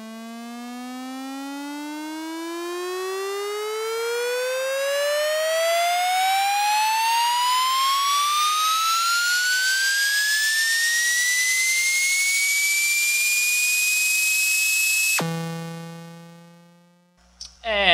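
A synthesized riser build-up sweeps its pitch smoothly upward on a curve, from 12 semitones below up to 48, for about fifteen seconds, loud and steady, then cuts off abruptly into a brief glitchy tail.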